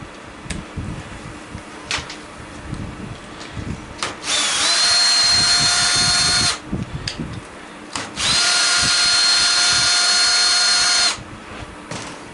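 Power drill fitted with a 1/4 inch bit taking apart an electric blower, two long steady high whirring runs of several seconds each with short clicks and clatter of handling between them, close and loud.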